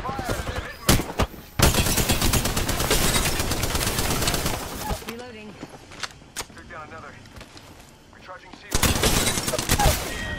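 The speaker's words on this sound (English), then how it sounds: "It's shots fired." Automatic and rapid gunfire from an Apex Legends season 6 match, loud bursts opening and closing the stretch with quieter shots and game effects between, plus a voice speaking over parts of it.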